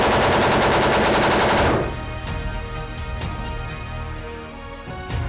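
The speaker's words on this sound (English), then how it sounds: "We're here in Las Vegas at Battlefield Vegas, shooting guns" Rapid automatic gunfire rips out in a loud, dense burst at the Battlefield Vegas shooting range in Las Vegas, then cuts off, leaving a ringing tail with a few scattered single shots.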